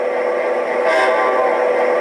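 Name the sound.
Atlas Amtrak P42 Genesis model locomotive horn, single toot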